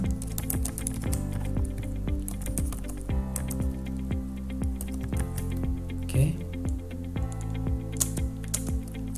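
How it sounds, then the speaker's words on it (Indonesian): Keys clatter on a computer keyboard while typing in the vi editor, a close, uneven run of quick clicks with short pauses, over a low background hum. "Lalu kita bisa ketik seperti biasa."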